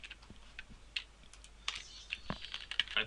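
Close, quick keystrokes on a computer keyboard tap out an irregular run of light clicks over a quiet background.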